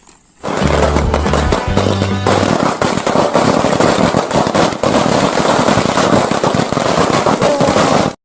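Diwali firecrackers burst in a dense, relentless barrage of loud crackling pops, like rapid gunfire, going on without a break for several seconds, with a low mechanical hum briefly underneath near the start.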